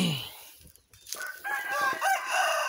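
An Asil rooster crows loudly nearby, its drawn-out call rising and falling, with a few clucks from chickens around it.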